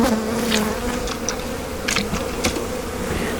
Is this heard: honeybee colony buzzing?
yes